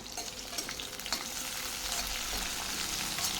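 Green chillies sauté in a pan with onions for Chettinad pachai milagai mandi, a bright, continuous sizzle with scraping stirs and spatters, close and steady, no talking.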